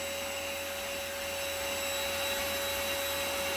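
A budget vacuum cleaner, roughly a $30 model with poor filtration, runs steadily throughout with a strong whining motor tone and broad airflow hiss, loud and continuous with no speech.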